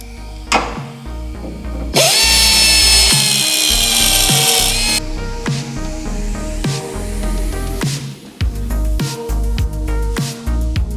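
A power tool cuts off metal radiator mounting tabs on a 1997 Toyota Supra MKIV in a workshop, a loud close grinding whine for about three seconds, surrounded by clanks and tool knocks.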